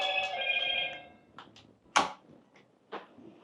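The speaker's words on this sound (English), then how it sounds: "My phone, man. A message coming, man." A phone rings with a bright electronic alert tone signalling an incoming message, a steady ringing burst at first, then a few quieter clicks and knocks nearby.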